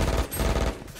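Rapid automatic gunfire in Valorant, a brief dense burst of close, loud shots.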